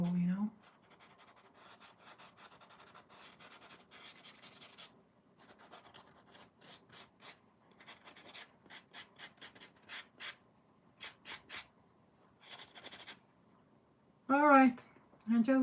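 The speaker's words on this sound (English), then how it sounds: "my job in the following days is sanding, sanding, sanding" A paper clay doll is sanded in short, dry, scratchy rubbing strokes, faint and close, first steady and then in spaced bursts, with a few brief moments of voice near the end.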